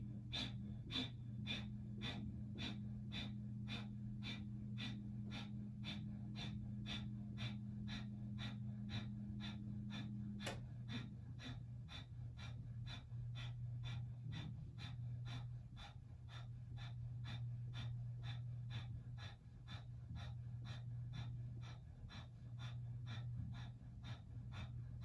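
Rapid rhythmic breathing in a yoga breathing exercise, a steady train of quick, evenly spaced breaths running continuously and close over a low sustained hum.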